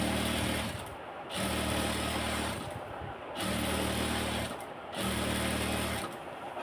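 A sewing machine stitches a pajama seam in four quick, even bursts of loud, close motor whirring and needle rattle, with short pauses between them.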